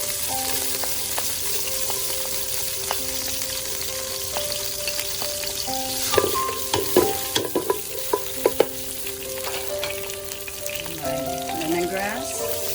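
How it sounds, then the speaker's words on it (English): Garlic dropped into hot oil in a home kitchen pan, a steady close sizzle with scattered pops and scraping stir strokes building in the middle and continuing to the end. "Let the oil get hot. And add my garlic."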